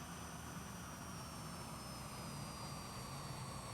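Steady, continuous drone of a straight-winged trainer aircraft engine in the IL-2 Cliffs of Dover flight simulator, holding an even, unbroken level with a faint high whine riding over it.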